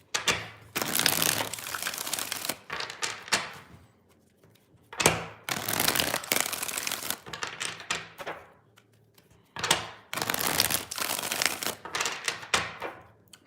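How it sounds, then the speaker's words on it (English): Tarot cards are shuffled in three separate bursts of rapid riffling and slapping, close and crisp, each lasting a couple of seconds with quiet pauses between. "Let's get 5 shuffles here."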